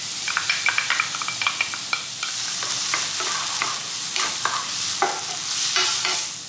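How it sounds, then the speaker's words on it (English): Minced white onion sizzles in hot oil in a pan, a loud, close, steady crackling hiss broken by the scrape and clack of a utensil stirring, with no talk. "I'm gonna put a little oil in here, and I'm going to add half of a small white onion that's been minced."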